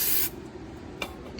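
A single sharp aerosol spray blast cleans residue off brake parts during front and rear brake pad and rotor work on a 2001-2007 Chrysler Town and Country, loud and hissing, then cutting off, followed by a faint second puff.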